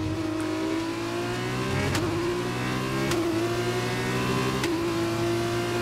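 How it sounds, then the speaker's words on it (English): Formula 1 car in the racing game F1 2021 winds up through its gears, a high engine whine that drops sharply at each of several upshifts spaced about a second apart, steady and clear with no talk. "sounds a little odd, right?"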